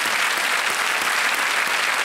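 A studio audience on a TV quiz show claps to welcome a contestant, a loud, thick, continuous burst of applause filling the whole stretch, close and unbroken, with no talking on top.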